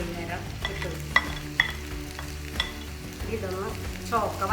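Grated coconut dry-roasts in a pan with fenugreek, cumin and fennel for Kerala sambar, giving a constant soft sizzle and crackle broken by a few sharp clicks of the stirring spoon, with no talk.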